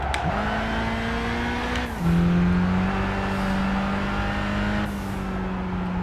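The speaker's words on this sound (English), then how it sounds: "pretty cool wastegate sounds" Race car engine in the Gran Turismo 5 video game holding a steady loud drone, with turbo wastegate chatter and whooshes between gear changes and no talking.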